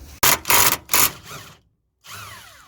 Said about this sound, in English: in order to undo this one, it's a 17mm socket we're gonna be using on this nut